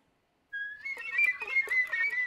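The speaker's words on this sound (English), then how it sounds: "I just have this one flute whistle tone sample." A flute whistle tone sample, an airy, thin sustained pitch entering after a short silence, with faint key clicks and breathy flutters over a wavering held note, heard alone.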